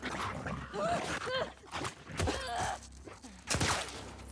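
A dog barking and whimpering during combat in the video game The Last of Us Part II, sharp repeated yelps and barks mixed with game effects while a player talks excitedly over them.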